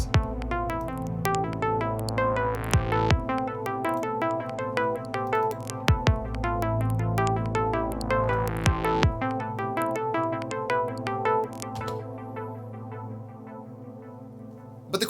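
A synthesizer sequence of bright, rapid repeating notes plays over a full backing track with steady low bass and periodic sweeping rises, continuous and upfront for about twelve seconds before thinning out near the end.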